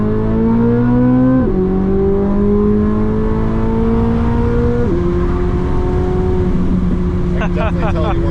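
A 2025 BMW M4 Competition xDrive tuned to 900 hp revs hard from inside the cabin, its engine note climbing steadily, dropping at two upshifts and climbing again, loud and continuous, with people talking over it.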